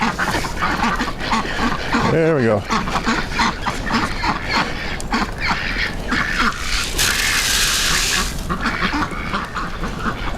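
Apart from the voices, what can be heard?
ducks quacking at a feeder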